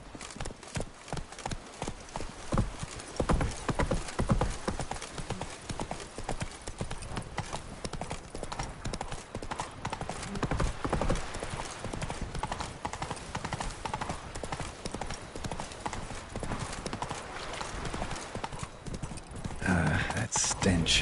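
Roach the horse galloping in The Witcher 3: rapid, rhythmic hoofbeats pound steadily and close by throughout, with voices now and then over the gallop.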